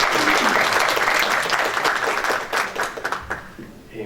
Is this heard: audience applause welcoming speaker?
yes